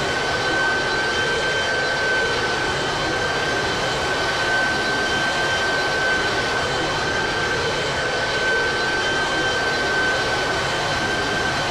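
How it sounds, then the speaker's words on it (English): A loud, continuous roar as a twin-engine airliner throttles up for takeoff at night, with a sustained high whine, broadband and steady throughout. "Throttles up its twin engines."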